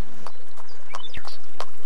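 Horses travel along a track, their hooves clip-clopping in sharp, irregular knocks a few times per second against a steady background murmur, with faint bird chirps.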